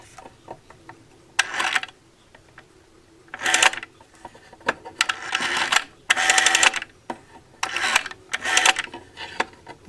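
An Ericsson-type telephone rotary dial with a trigger arrangement, heard close up as several short bursts of mechanical whirring and clicking, separated by quiet gaps and a few isolated ticks.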